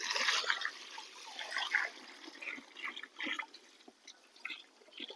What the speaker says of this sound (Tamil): அந்த யூரின் எடுங்க தம்பி இப்போ நீங்கள் இதை பார்த்தீங்கன்னா யூரின் ஊத்துறோம் ஊற்றுங்க